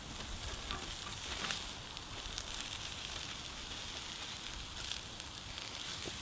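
Courgettes fry on a hot plancha with a steady, close crackling sizzle that holds evenly throughout, with no voices over it.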